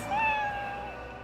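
A cat lets out a single drawn-out meow, clear and close, in an otherwise quiet room.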